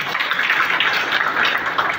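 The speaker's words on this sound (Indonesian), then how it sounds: "tepuk tangan yang meriah" A large crowd applauds at an Indonesian political gathering, with steady, dense clapping that stays loud and even from start to finish.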